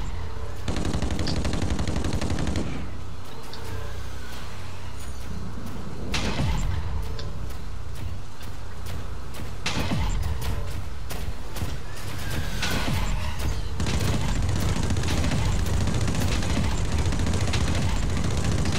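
Video game gunfire comes in repeated rapid bursts and scattered single shots, fairly loud, mixed with horse neighs and hoofbeats from the game.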